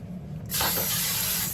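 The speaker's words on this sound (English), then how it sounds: "When you spray it, you gotta spray it all around." Cooking spray hisses from a can onto a cake pan in one steady, close burst that starts abruptly and keeps going without a break.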